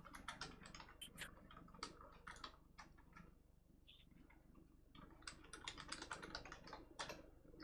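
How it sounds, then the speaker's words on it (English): Rapid, irregular clatter of keys on a computer keyboard, typing close up in bursts with a short lull midway, quiet and alone with no voices. "just typing something on Discord"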